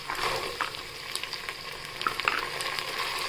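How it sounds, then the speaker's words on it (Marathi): Peas, cashews, green chili and garam masala fry in hot oil, giving a steady close sizzle broken by occasional sharper crackles and the clink of stirring, with no talking. "काजू आणि हिरवी मिरची आणि गरम मसाले हे तेलात परतून घेतो आपण। मटर टाकूया।"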